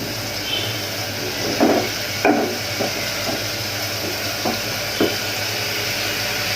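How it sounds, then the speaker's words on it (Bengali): Two bay leaves go into hot oil for a radish greens and small shrimp dish, and a steady sizzle follows. A few soft knocks and stirring sounds come through, and no one talks. "সাথে দিয়ে দিব 2টো তেজপাতা।"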